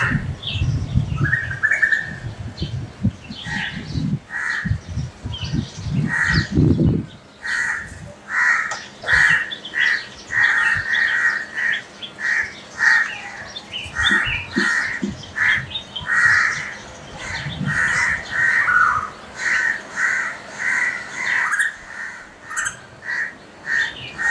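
A crow tangled in kite thread caws repeatedly in harsh bursts, close and loud, with rustling and flapping thumps early on and a few chirps from other birds.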